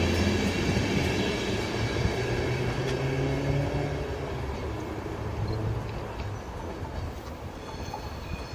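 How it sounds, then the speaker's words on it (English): A Grand Central HST passes on the East Coast Main Line at Peterborough, a loud, steady roar of engine and wheels on rails filling the whole stretch, close by and without letup. "our passing is a Grand Central HST from Sunderland"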